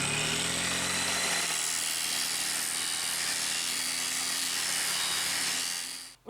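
Chisel bits from demolition hammers are being sharpened, giving a steady, loud grinding whine that holds unbroken for several seconds and then cuts off abruptly, with no voices.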